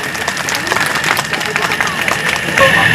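Audience applause at a Mali community ceremony for statues of Jyotiba and Savitribai Phule in a village: dense, steady clapping from a crowd throughout, mixed with murmured voices and some louder hand claps near the end.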